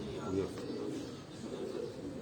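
Large-bodied pigeons cooing on a rooftop loft, soft low murmuring coos near and moderately quiet, with someone talking over them.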